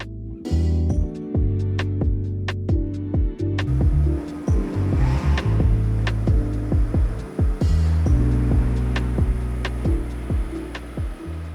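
Rolls-Royce Cullinan rolling off a workshop ramp, its engine running steadily and close by, with clunks, thuds and clicks from the workshop throughout.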